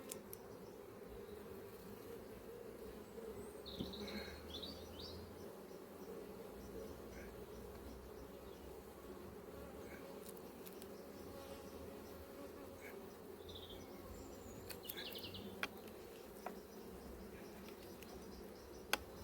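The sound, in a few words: honey bees buzzing around an apiary hive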